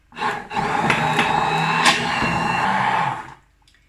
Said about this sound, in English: So I've got my stick blender, Bamix stick blender, and I'm gonna just blend this until smooth